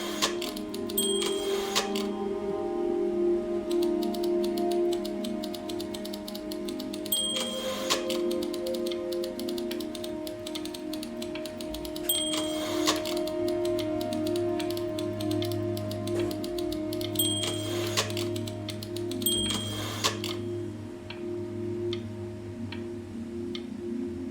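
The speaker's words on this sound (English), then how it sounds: "I hope I can type like this" Keyboard typing in the game Before Your Eyes, a steady run of light clicking taps over a constant low background hum, with a few louder bursts of rapid keystrokes spread through the stretch.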